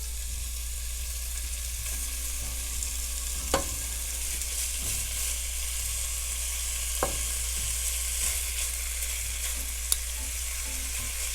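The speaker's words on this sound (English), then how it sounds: "now we're going to cook our bacon until it's nice and crispy" Six slices of bacon frying in a pan preheated to medium-high: a steady, moderate sizzle with faint crackles and a few sharp pops, alone and close, under a low constant hum.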